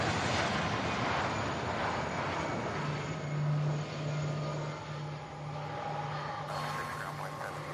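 An MD-11 cargo jet arriving from Oakland at Louisville's SDF airport gives a faint, distant engine roar with a steady low drone that lingers through the whole stretch.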